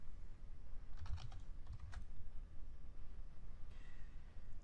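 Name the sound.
typing code on a computer keyboard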